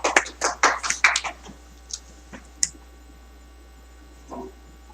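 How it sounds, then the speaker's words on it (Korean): A small audience at a university lecture gives brief applause, a burst of close, crisp hand claps over about a second and a half, then a few scattered claps trailing off into quiet. "박수로 맞아주시기 바랍니다."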